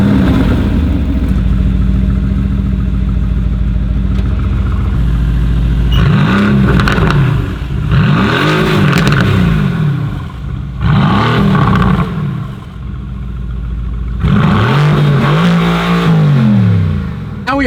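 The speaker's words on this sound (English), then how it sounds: "get some interior sound clips, then get some revving clips, and then get some flybys" Car engine revving in repeated bursts before its exhaust is straight-piped, with loud rising and falling rev sweeps between steadier idle stretches, close and dominant throughout.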